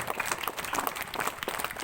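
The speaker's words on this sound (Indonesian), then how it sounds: "Beri tepuk tangannya Maria" A church congregation at a revival service on a seminary campus in Jayapura applauds together, a dense, steady wash of clapping hands lasting a couple of seconds with no voices standing out.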